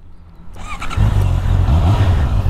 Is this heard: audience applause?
no